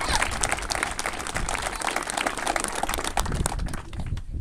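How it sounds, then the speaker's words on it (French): Audience at an exhibition opening in La Londe-les-Maures applauds a municipal councillor, with brisk, dense clapping held close and steady throughout, tailing off slightly in the last second. "je vous demande encore d'applaudir très très fort"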